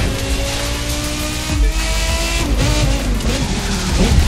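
A Porsche Carrera GT races in The Crew 2, its engine note rising and shifting through gears with brief tire squeals, loud and continuous with no talk.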